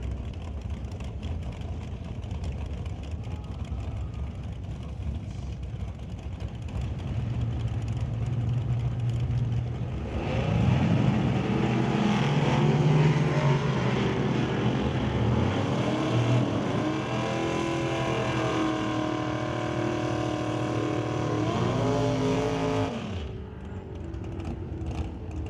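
Drag-racing Camaro at an NHRA Super Pro event, heard as a loud engine roar that swells around ten seconds into a strong revving run with rising pitch, then cuts off sharply near the end.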